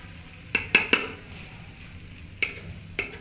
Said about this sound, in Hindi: इन्हों असीं अच्छी तरह मिक्स कर लेने अंडे तो ग्रेवी दे विच।